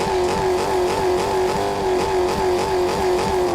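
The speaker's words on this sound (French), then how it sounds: "mais je crois que c'est une Mustang" A golden Mustang's engine revs steadily and loudly in Fortnite, a sustained mid-pitched drone with slight wavering and no talk over it.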